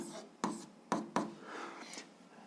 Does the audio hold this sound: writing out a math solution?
yes